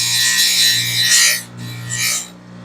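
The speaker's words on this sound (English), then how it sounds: "This is the fine grade Scotch-Brite wheel." A fine grade Scotch-Brite wheel deburrs the edge of a kydex holster. The close abrasive hiss rises and falls over two short passes against the spinning wheel, with no voices.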